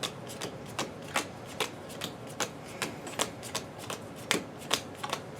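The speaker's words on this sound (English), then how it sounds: "I will still shuffle my deck" A deck of playing cards being shuffled during a Marvel Champions card game, a steady series of sharp riffling snaps repeating roughly every half second, close and fairly quiet, with no talk.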